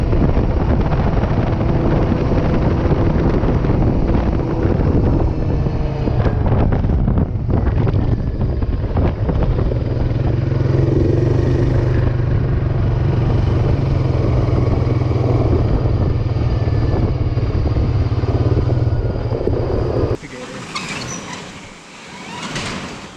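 An ATV engine drones steadily while someone rides it, heavily buffeted by wind rushing across the microphone, with a sudden drop and rougher sound near the end.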